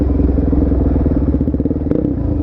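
A motorcycle engine thrums and clatters close by as it is ridden, a steady loud rhythmic pulse with a brief crackling burst near the end, no talking.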